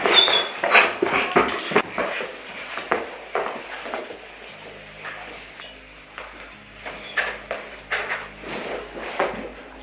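A dog whimpers and yips in excited greeting, with close, repeated high whines and short cries coming in bursts over a low background hum.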